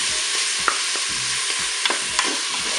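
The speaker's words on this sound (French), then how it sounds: "l'huile est chaude, j'ai mis mes morceaux de steak haché" Pieces of ground beef frying in hot oil, a steady bright sizzle with soft scraping stirs and light taps of a utensil against the pan, close and without talk.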